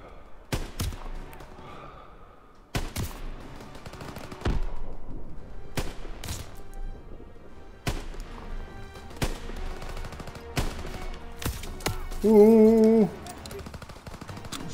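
Sniper rifle shots in the World War II shooter Call of Duty WW2, about nine sharp isolated cracks spaced a second or two apart over quiet game ambience, with a brief tonal blip near the end.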